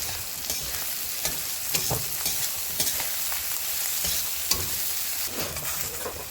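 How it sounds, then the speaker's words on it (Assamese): Potatoes and eggplant fry in a pan for a Bengali-style charchari, sizzling loudly and continuously while a spatula scrapes and stirs in irregular strokes close by, with no talking. "আমাৰ আলু বেঙেনা প্ৰায় ভাজা হৈয়ে গৈছে, আৰু 5 মিনিট এনেকৈ ভাজি ল'ম।"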